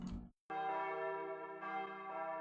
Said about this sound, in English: The roaring sound of bells